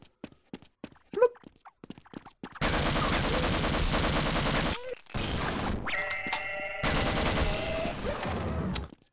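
Rapid automatic gunfire from the video game Half-Life 1, loud sustained bursts with brief pauses between them, preceded by a few scattered single clicks and shots.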